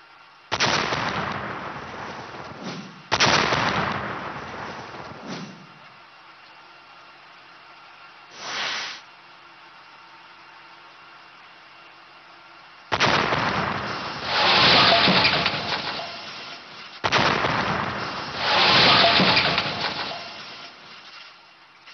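A natural gas leak explosion in homes fed by a pipeline booms in several loud blasts, each trailing into a long roaring rumble, with quiet gaps between the bursts.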